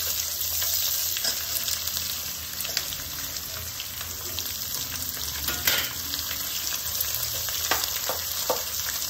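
Onions frying in a pan for a Rayalaseema-style gutti vankaya (stuffed brinjal) curry, a steady close sizzle with occasional stirring scrapes and no talk.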